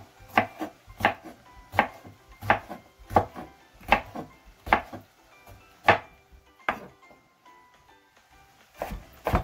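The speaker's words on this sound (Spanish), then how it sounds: "Lo voy a picar bien." A knife chops a jalapeño for Guatemalan tacos, striking the cutting board in a steady run of sharp, close knocks, about one every half second, with a short pause before the last strokes.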